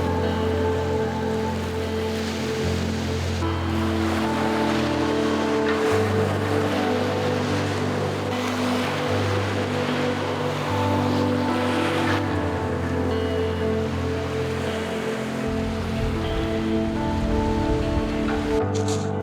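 Baltic Sea waves break steadily on the flint-strewn shore of Rügen's cliff coast, a loud continuous wash of surf and wind with no voices.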